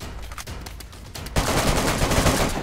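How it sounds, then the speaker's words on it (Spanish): Gunfire in the video game DayZ: rapid shots crackle and thump, loud and dense, then swell into a heavier sustained volley in the second half. "Le dio un disparo."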